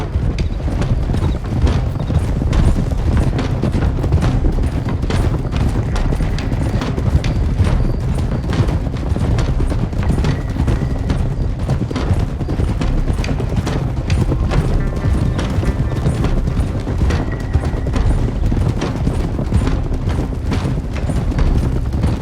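Horses gallop in Red Dead Redemption 2, a steady, dense drumming of hooves that runs unbroken and loud throughout with no talk over it.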